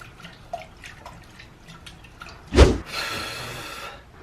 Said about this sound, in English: My bike is full of water and we gotta get this fixed